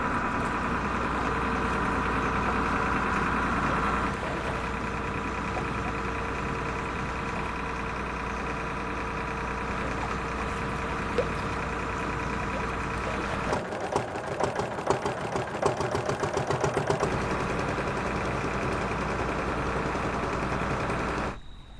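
A motorised river boat engine running steadily, a loud continuous drone with a constant hum, changing tone briefly partway through before settling back to a steady run.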